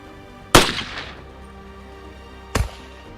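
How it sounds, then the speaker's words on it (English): Rifle gunfire at a timed shooting competition: two sharp, loud reports about two seconds apart, the first with a short echoing tail, heard from a moderate distance with no talking. "On the 5th place, we've got CNR Collector shooting his N1 turbine, scoring 9 hits in 75 seconds, resulting in a score of 60 even"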